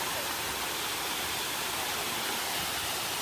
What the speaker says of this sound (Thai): จุดน้ำตกตาดเหมยสูงจริง ๆ ค่ะ